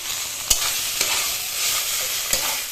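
Green banana peel paste with a little sugar is stirred in a hot pan, giving a loud continuous sizzle and hiss punctuated by three sharp spoon scrapes against the pan, with no talking.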